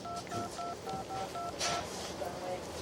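A cell phone number is dialed, giving a short run of evenly spaced keypad beeps, about seven tones, with faint room noise underneath and people speaking over it.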